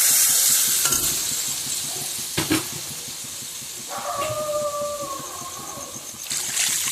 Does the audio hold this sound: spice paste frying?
yes